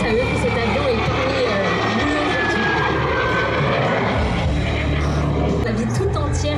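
A vintage propeller airplane flies over the Ferté-Alais airshow, a steady broad engine drone with a slowly shifting whine, loud and continuous throughout, with a voice talking over it.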